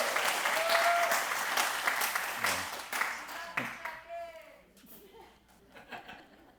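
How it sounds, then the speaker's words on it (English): A church congregation at a Mother's Day service applauds warmly. The clapping is strong at first, mixes with light laughter and voices, and then tapers off into quieter chatter. "She didn't want the applause to stop."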